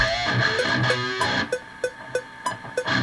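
Regular sharp clicks from a metronome click track in Nuendo or Cubase tick at a steady tempo over a layered musical backing, becoming more prominent as the music thins out.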